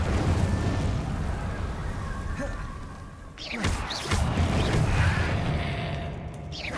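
A Confringo spell explosion in Hogwarts Legacy sets off a sudden burst with crackling, whooshing debris partway through, surrounded by continuous rumbling game action and other spell effects.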